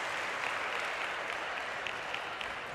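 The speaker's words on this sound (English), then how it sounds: "a rapturous ovation from the packed crowd here" A packed arena crowd at the 2025 FISU World University Games in Rhine-Ruhr, Germany gives Team USA a steady, loud wash of applause, with dense clapping sustained evenly throughout and no voices standing out.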